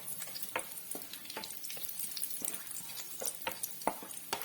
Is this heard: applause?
no